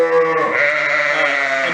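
A sheep penned with others in a working facility gives one loud, close, sustained wavering bleat that fills the whole moment.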